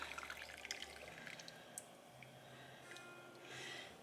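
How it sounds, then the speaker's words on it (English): Hot water drips faintly from blanched vegetables draining in a kitchen strainer, a soft, quiet trickle with scattered droplets. "And I just let it drip."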